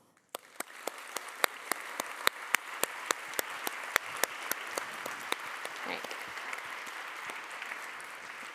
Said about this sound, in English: I want to give you a huge round of applause.